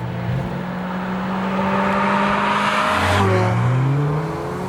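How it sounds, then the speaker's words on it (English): A 1999 Ferrari F355 F1 Spider's small-displacement V8 pulls hard while driving, a loud, steady engine roar heard from on board that climbs in pitch as it accelerates, with no talking over it. "we're gonna go for a drive and just experience what a small displacement Ferrari V8 is like to drive"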